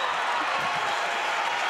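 A crowd roars after a point at an NCAA women's volleyball tournament match between Hope and Wisconsin–Stevens Point, a loud, sustained wash of cheering and applause.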